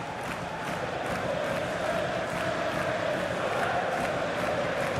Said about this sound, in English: the crowd really enjoying it